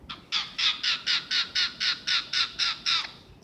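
A pet bird perched on a shoulder gives a run of about eleven harsh, evenly spaced squawks, loud and close, with no talking over them.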